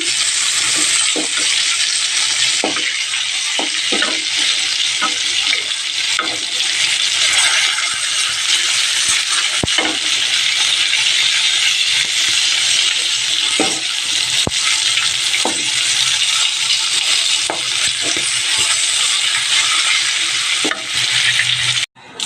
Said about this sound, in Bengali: বন্ধুরা বেগুন ভাজা আর পটল ভাজাটা বসিয়ে দিয়েছি